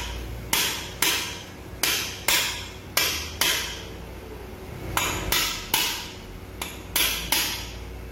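Gear being hammered onto a shaft in the CVT of a 2022 Yamaha NMAX: about a dozen sharp metallic strikes in a steady rhythm, close and clear, with a brief pause midway.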